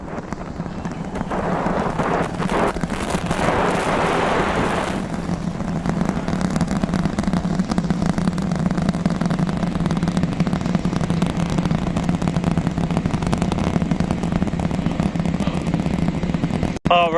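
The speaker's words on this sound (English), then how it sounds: "30 seconds into flight, the rumbles are still building here in the Raptor's nest" SpaceX Super Heavy rocket climbing after launch, a continuous loud low rumble with broadband roar that holds steady and builds throughout, heard from a distance with no talk.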